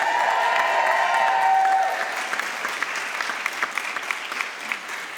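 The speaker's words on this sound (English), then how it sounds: "I don't think that was a very loud round of applause" Loud applause from a large crowd at a university graduation ceremony that starts dense and gradually thins into scattered claps.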